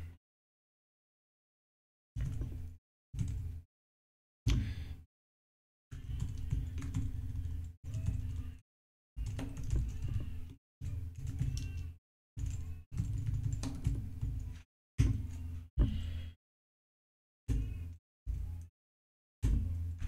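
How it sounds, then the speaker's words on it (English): Bursts of keyboard typing on a computer, loud and close, with several clusters of rapid keystrokes separated by short silences. "I want to press buttons on my keyboard."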